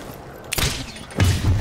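Gunshots in the Pigeon Team Six video game: two bursts of sharp, booming fire about half a second apart, the second rolling into a rumbling tail.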